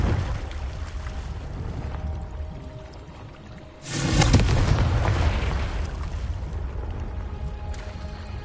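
A Confringo spell blast in the Hogwarts Legacy game erupts as a sudden loud burst with a crackling, booming tail that lingers over a rumbling ambient bed.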